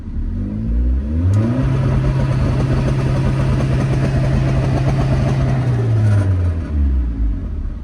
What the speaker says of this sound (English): Now you're going to hear the difference between the launch control and how much boost it builds and how quick it actually builds that boost.